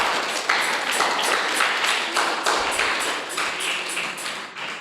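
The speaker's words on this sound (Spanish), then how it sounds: "Dele fuertes palmas al Señor." A church congregation claps hard and in rhythm during an evangelical worship service, sharp overlapping claps repeating steadily and loudly for several seconds.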